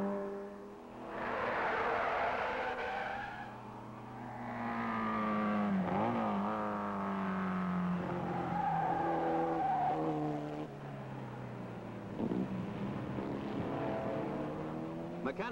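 Race cars corner on an oil-slicked track at Mosport, engines rising and falling in pitch as each car passes, with tire squeal and skidding mixed in, heard at moderate distance.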